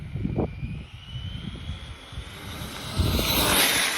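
A Laegendary Thunder RC car on a CNHL 4s 8,000 mAh LiPo with a ZTW ESC accelerates at full throttle, its electric motor whine rising sharply and growing louder over rough wind-blown rumble.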